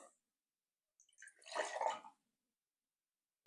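Coca-Cola is poured into a glass holding light rum and lime juice for a Cuba Libre, a short fizzing splash lasting about a second, close and quiet with no talk.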